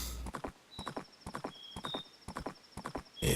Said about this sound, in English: ride that horse.